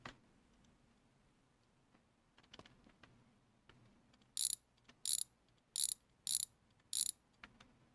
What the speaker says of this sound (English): So let's grab our wrench.